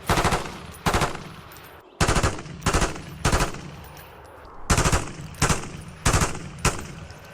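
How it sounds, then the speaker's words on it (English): Repeated bursts of rapid gunfire in Black Ops 6, loud and near, firing in an uneven rhythm of short volleys with brief gaps between them, no voices. "Gunshots sound louder in that one."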